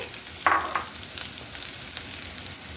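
Chopped green chilies hit hot oil with softened onions in a noodle dish, giving a brief sharp sizzle burst, then a steady quieter frying hiss with faint stirring.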